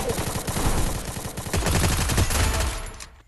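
Gunfire in a shooting video game comes as loud, rapid bursts of automatic fire that swell, pause briefly near the middle, then resume before cutting off at the end.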